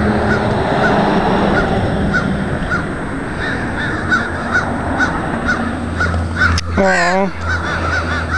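Crows caw repeatedly in a village setting in Kerala, harsh rhythmic calls over steady outdoor background noise, with one loud, near caw standing out and a brief voice heard.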